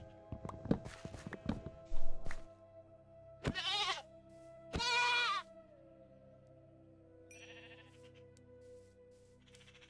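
Goats in Minecraft let out several wavering bleats, spaced a second or two apart, amid clicky taps and footsteps in a quiet game world.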